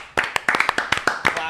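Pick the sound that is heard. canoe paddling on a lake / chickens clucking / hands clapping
hands clapping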